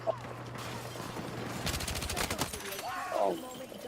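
A burst of rapid gunshots rings out during a high school boys hockey game in Pawtucket, Rhode Island, a quick volley of sharp cracks lasting about a second amid crowd noise, fairly loud in a news report.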